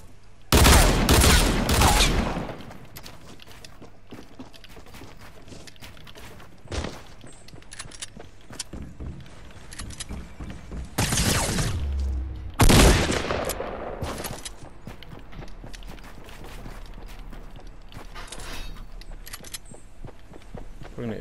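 Gunfire bursts in Fortnite Battle Royale at Tilted Towers, loud volleys at the start, a sharp crack near seven seconds and more shots around eleven to thirteen seconds, with quieter scattered game noise and footsteps between.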